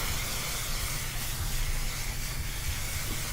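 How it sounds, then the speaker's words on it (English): Pantene holding spray hisses in a steady, continuous aerosol burst onto a ponytail hairstyle, close and loud, with no pauses and no talking. "then the holder spray, which is a Pantene holder spray"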